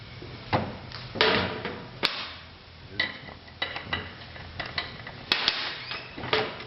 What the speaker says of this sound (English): What I'm going to do is just take the air gun.